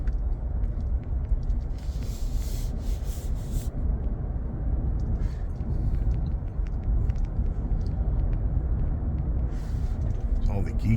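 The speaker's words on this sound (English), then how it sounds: "This truck just soaks up the bumps." A truck drives over a bumpy private road, heard as a steady low rumble with rattles and knocks from the cab, with voices talking over it.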